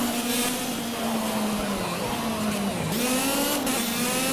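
A race car's engine drones steadily in Project Cars, with the pitch sagging and climbing through gear changes over a constant loud roar.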